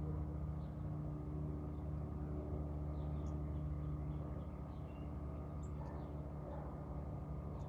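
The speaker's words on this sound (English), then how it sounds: "Can you hear another plane?" A steady, continuous low engine drone of a plane passing overhead fills an outdoor natural setting, constant and moderately distant, with faint bird chirps scattered above it.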